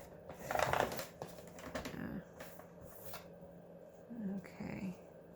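Scissors snipping through a file folder while a layered junk journal tag is made, a few short crisp cutting crunches in close bursts with rustling paper handling between them, fairly quiet.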